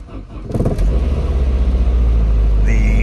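A Saab car with a zero oil pressure fault cranks briefly, then its engine catches and settles into a loud, steady, close-up idle rumble with a rhythmic pulse.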